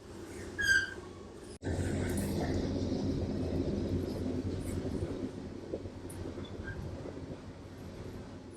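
A commuter train on public transit heading to Winnetka, Chicago, rumbles steadily from inside the car, a low continuous roar of wheels and motion after a brief chime and a sharp cut near the start.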